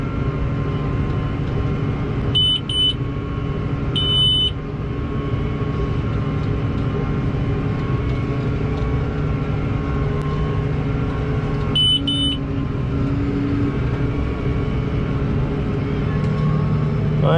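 A Case Puma CVX 230 tractor engine holds steady revs in a continuous, even drone, broken by a few short, high electronic beeps.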